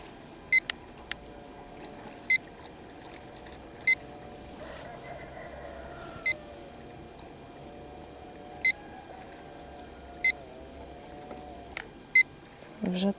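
A fishing bait boat beeps in short electronic tones at irregular intervals over its steady low motor hum, fairly clear against the background.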